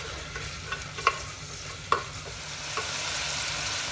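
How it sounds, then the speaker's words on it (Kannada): Carrots, beans and kohlrabi are stir-fried in a pan for vegetable pulao. A soft, constant sizzle runs throughout, with a few light scraping knocks as the spoon turns the vegetables, and no voices. "ಮತ್ತು ಕ್ಯಾರೆಟನ್ನು ಹಾಕಿ ಹಾಗೂ ಇಟ್ಕೊಂಡಿರುವಂಥ ಗೆಡ್ಡೆಕೋಸನ್ನು ಹಾಕಿ ಚೆನ್ನಾಗಿ ಫ್ರೈ ಮಾಡಬೇಕು."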